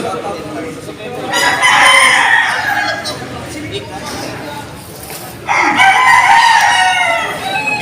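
Roosters crowing at a busy chicken market in Padre Garcia, with loud drawn-out crows rising twice over clucking fowl and general market bustle, while people talk nearby.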